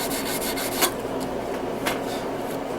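Hand sanding scratches off a metal knife bolster makes a close, continuous abrasive rubbing, in steady back-and-forth strokes with a couple of sharper scrapes.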